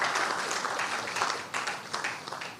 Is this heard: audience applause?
yes